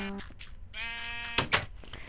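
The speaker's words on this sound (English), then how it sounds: "Come on, sheep." Minecraft sheep bleating, a few short nasal calls in quick succession, fairly close and clear against a quiet game background.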